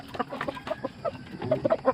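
Chickens and a hen cluck busily in quick, overlapping calls while being fed on a rural province farm, close by and fairly loud.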